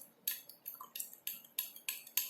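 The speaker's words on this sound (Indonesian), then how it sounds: "Cukup dengan diaduk-aduk sampai dia rata" Utensil scraping and clinking in a bowl while stirring two homemade hand sanitizer ingredients, about seven short bright strokes in a steady rhythm, close and fairly quiet.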